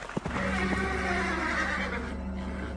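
A horse gives a loud, close neigh, a long quavering whinny that trails off, with faint hoof clip-clops at the start.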